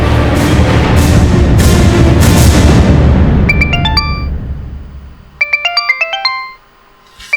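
A phone ringtone plays a short repeating electronic melody for an incoming call from an unknown number, sounding twice in bursts after a loud rumbling noise fades, with no talking over it.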